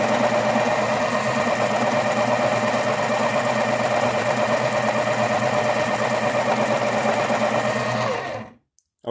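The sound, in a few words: Staples medium duty electric pencil sharpener running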